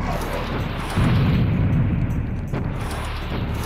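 Rocket blasts in Serious Sam: The First Encounter, a deep booming burst around one second that rumbles for close to a second, then a weaker thump near two and a half seconds, over steady game noise.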